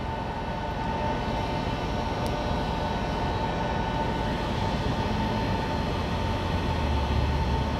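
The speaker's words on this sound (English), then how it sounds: "I can still hear that jet flying around." A steady, broad roar of a jet aircraft passing overhead, constant and moderately loud throughout with no voices.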